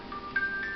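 A wind-up toy mini sewing machine plays a short, faint tinkling music-box melody, a few thin chiming notes sounding close by and alone.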